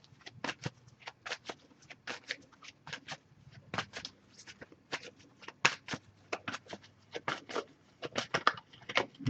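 A tarot oracle card deck is shuffled by hand in steady, close bursts of papery riffling and soft slaps that continue for several seconds, with no talking.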